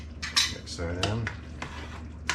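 Metal utensil clinks and scrapes against a pot while stirring homemade spaghetti sauce, a few sharp taps and a short stirring burst, close and fairly loud with no talk.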